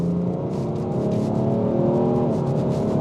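BMW 335d straight-six diesel with a ZF 8-speed automatic pulls hard under full throttle, its loud engine note climbing in pitch, dipping briefly at a gear change, then rising again, close and alone.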